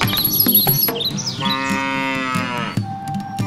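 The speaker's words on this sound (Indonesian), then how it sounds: "Dan mereka membeli seekor sapi." A cartoon cow gives a long, loud, drawn-out moo with a falling pitch at the end, close and clear, after a few brief jingly cartoon sound effects and with no talk.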